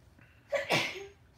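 A single sneeze bursts out close by, a short sharp intake followed by a loud explosive release, then fades into quiet.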